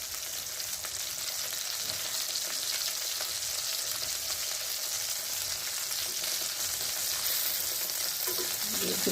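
Garlic cloves sizzle in hot oil in a pan, a loud, steady frying hiss that runs unbroken from start to finish with no voices over it.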